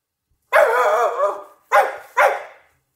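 A spaniel barks three times up close, one long rough bark followed by two short sharp ones, with silence around them.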